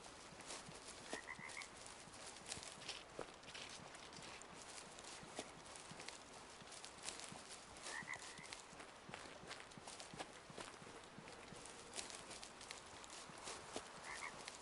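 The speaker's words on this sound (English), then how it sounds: "Shoot the frogs." Frogs croak intermittently in a wetland scene of the hunting game Way of the Hunter, short raspy calls spaced several seconds apart over a busy bed of ambient clicks and rustling.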